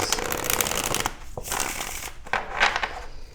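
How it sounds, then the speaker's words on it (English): Tarot cards are riffled and shuffled by hand in several quick, papery bursts separated by short pauses, close and fairly soft. "Let's go ahead and get one shuffle in here for you"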